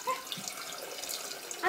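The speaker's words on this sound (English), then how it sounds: "So, Cameron, can you turn on the tap please?" Water runs from a kitchen tap, filling for poaching eggs: a faint, steady hiss of flowing water with small splashes and a few soft clinks, fairly quiet and continuous.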